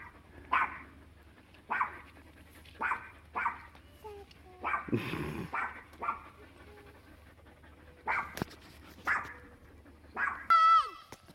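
A dog gives repeated sharp barks at irregular intervals, with panting, whimpers and a rough growly burst in the middle, outdoors on a family van-life trip, ending on a high whining yelp.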